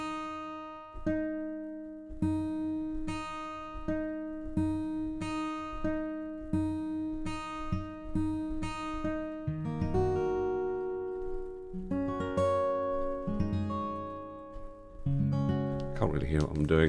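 Synthesized guitar pluck tones from a DIY modular synth chain, played one after another as a steady sequence of bright plucked notes, shifting to busier layered pitches toward the end.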